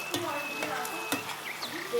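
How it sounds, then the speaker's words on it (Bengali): Spice paste of turmeric, chili powder and roasted masala with cumin and coriander is sautéed in a pan, with close sizzling and frying plus a few crisp spoon scrapes and taps. "ভালো করে মশলাটাকে কষিয়ে নিচ্ছি"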